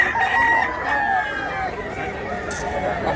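Gamefarm rooster crowing loudly and close in Mantalungon, Cebu, one long drawn-out crow with wavering tones, other fowl faintly around it and a brief noise near the end.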